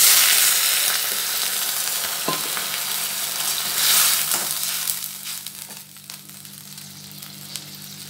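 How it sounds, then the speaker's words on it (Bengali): Water poured into onions frying in a pan for an okra, potato and egg dish. It sets off a loud, hissing sizzle that gradually softens and fades over several seconds, with a few faint utensil clicks. "এবার আমি এতে একটু জল দিয়ে দিচ্ছি।"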